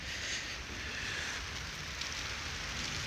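Steady rain falls outdoors around a cabbage field, a dense continuous hiss of drops on surfaces, close and even throughout with no voices.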